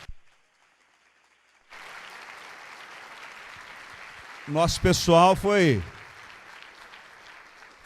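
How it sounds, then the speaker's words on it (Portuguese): Church congregation clapping for Jesus after a music festival win, a broad steady patter of applause rising after a quiet start, while someone speaks briefly over it in the middle. "Parabéns, vamos aplaudir Jesus"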